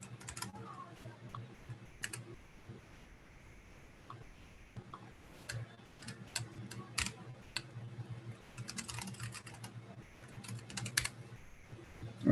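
Someone types on a computer keyboard, giving quiet, uneven runs of close key clicks with short pauses. The clicks grow into denser bursts toward the end over a low background hum.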